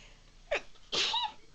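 A single sharp sneeze, preceded by a brief inhaled catch, close to the mic in an otherwise quiet room.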